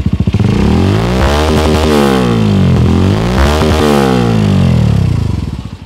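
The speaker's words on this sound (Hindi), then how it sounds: "ये आपकी हो गई आइडल पर, आप देता हूँ थ्रॉटल," A Hero Xtreme 125R motorcycle fitted with a long aftermarket exhaust revs up from idle twice. Each deep, loud engine note climbs in pitch and falls back, close to the listener, with no voices.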